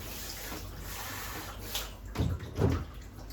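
Water splashes and pours in short bursts near the end, following a quieter stretch of soft running noise.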